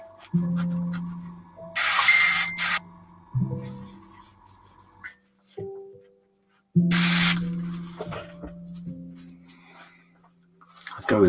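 An airbrush gives two short, sharp hissing bursts of spray, each about a second long, between quieter bench clatter and handling sounds, close and fairly loud.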